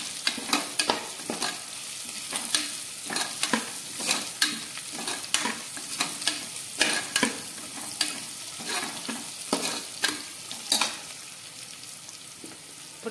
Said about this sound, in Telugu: ఆనియన్స్ బాగా ఫ్రై అయిపోయి ఇందులో పచ్చిమిర్చి, కొద్దిగా కరివేపాకు, జీలకర్ర, ఆవాలు కూడా వేసి బాగా ఫ్రై చేసుకోవాలి